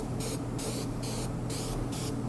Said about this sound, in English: let's see what happens when we just go ahead and spray rusty pliers